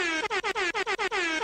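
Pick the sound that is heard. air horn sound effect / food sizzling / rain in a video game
air horn sound effect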